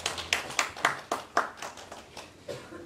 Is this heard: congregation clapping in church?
yes